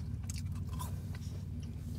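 Crispy french fries being eaten close to the mic: quick crunchy bites and chewing over a low steady background hum.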